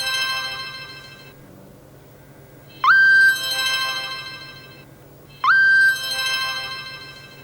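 Mobile phone ringtone for an incoming call: a steady repeating electronic melody with two sharp rising chirps, loud and close, with no talking.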